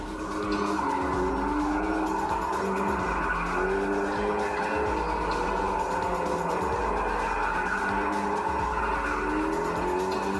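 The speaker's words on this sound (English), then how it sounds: "the rear tires to spin fast enough to allow the car to drift smoothly through the turn" Car from GTA drifting through a turn with tires squealing, a continuous loud skidding screech over a droning engine that holds steady for about ten seconds, with no talking.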